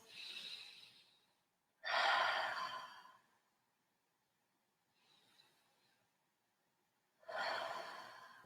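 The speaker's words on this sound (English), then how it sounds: "take some nice deep breaths" Slow, deep breaths in and out during a stretching session, close and clear, with long pauses between each breath and no talking.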